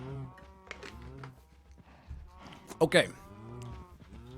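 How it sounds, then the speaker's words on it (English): Cows mooing in a cow barn in a video game, several drawn-out moos rising and falling over a few seconds, with a person speaking briefly over them. "I hear some cows."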